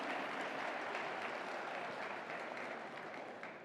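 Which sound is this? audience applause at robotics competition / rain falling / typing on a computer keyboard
audience applause at robotics competition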